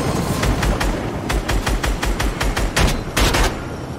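Rapid automatic gunfire in the Fortnite video game, several bursts of quick sharp shots in close succession with brief gaps between them, loud and near.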